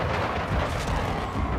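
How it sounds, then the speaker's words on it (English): A grenade blast in the Modern Warfare 2 video game, a loud, dense rumbling boom that fills the whole short moment with sustained broadband roar, like gunfire and explosions blending together. "Oh, that's a grenade, mate."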